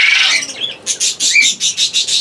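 A red-faced green conure parrot squawks in an aviary shared with quail, parakeets and cockatiels, giving a run of loud, harsh, close calls that settle into a steady repeating rhythm.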